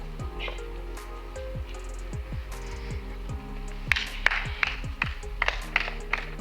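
Applause breaks out at a Rwandan bride-request ceremony in a comedy skit, with scattered claps growing into a fuller burst of clapping over a steady musical background.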